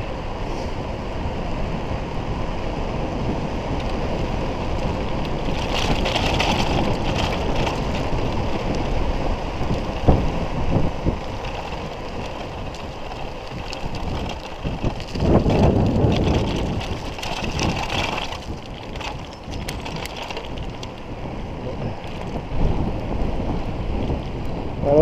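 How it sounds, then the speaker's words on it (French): A headwind blows while riding a Moustache electric bike. Steady rushing wind noise buffets the microphone for the whole ride and swells in louder gusts, with no speech heard. "j'ai de nouveau le vent de face un peu"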